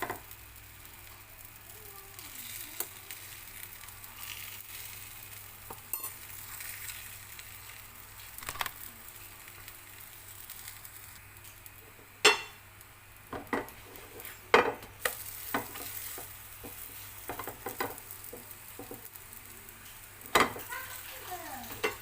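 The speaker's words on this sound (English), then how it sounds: "Put oil and put a paratha." A stuffed paneer paratha fries in oil on a pan, giving a steady low sizzle with occasional sharper clinks and scrapes of a utensil against the pan, fairly close and without talk.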